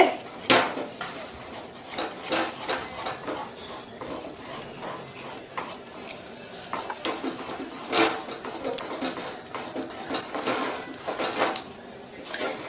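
Karachi halwa thickening in a pan is stirred continuously, giving repeated metallic scrapes and clinks of a spoon against the pan at close range, with faint background noise.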